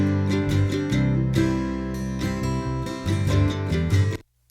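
Acoustic band playing with strummed guitar and a deep bass line underneath, steady rhythm, then cutting off abruptly near the end.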